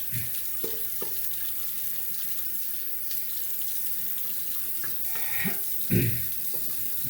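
Tap water runs steadily over a Shapton Pro 5K synthetic sharpening stone being rinsed, a continuous splashing stream with a few louder splashes and clunks near the end.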